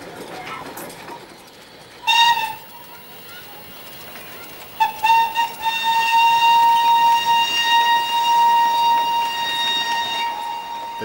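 A short freight train on the Darjeeling toy train railway in India, with two brief whistle blasts around the two- and five-second marks and then a steady, sustained whistle tone over continuous rolling rail noise.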